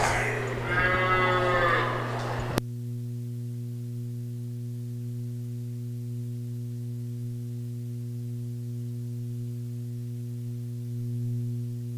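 A Mini Zebu steer at a state fair livestock show gives one loud, close moo lasting about two seconds, then steady electrical hum carries on alone.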